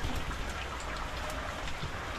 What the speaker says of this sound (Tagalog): Sana tumila na yung ulan